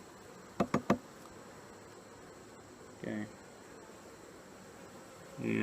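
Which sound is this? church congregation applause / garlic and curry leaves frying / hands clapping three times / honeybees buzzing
honeybees buzzing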